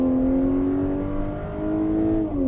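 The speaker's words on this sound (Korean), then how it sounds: "인공 배기 사운드가 더해지죠." Volkswagen Atlas large SUV with a 2-liter turbo engine playing its artificial exhaust sound in sport mode: a steady, droning engine tone with layered harmonics that rises slightly, heard up close and alone throughout.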